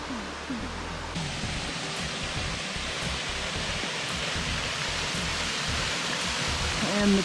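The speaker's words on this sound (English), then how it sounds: "the trail goes right up the side of this waterfall" Steady broadband rush of a waterfall beside a hiking trail in Killarney Provincial Park, a constant close roar with faint talk buried underneath.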